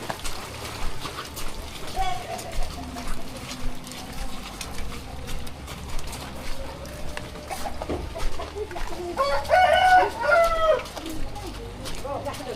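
A rooster crows once toward the end, over chickens clucking and people chatting nearby.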